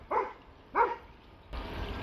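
A dog barks twice, two loud, distinct barks spaced well apart, close by, followed by a steady outdoor rush of background noise.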